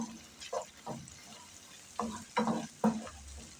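Garlic, onion and sausage stirred in a frying pan, with a soft continuous sizzle broken by several scraping strokes of the spoon, mostly in clusters toward the end.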